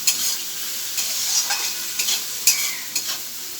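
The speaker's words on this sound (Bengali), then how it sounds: "আমার মশলাটা কষানো হয়ে গেছে, আমি এবার আলুগুলো দিয়ে দেবো।" Potatoes are stirred into sizzling cooked-down masala for a Bengali potato chicken curry, giving bright close frying crackle with several sharp spoon scrapes at intervals, with no voices.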